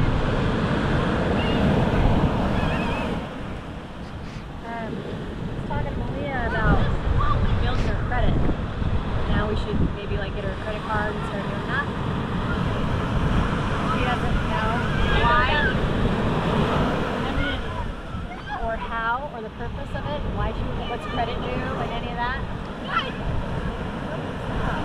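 Ocean surf breaks steadily on a beach at Georgetown in the Bahamas, a continuous wash of waves mixed with wind buffeting the microphone, while voices murmur and call out now and then.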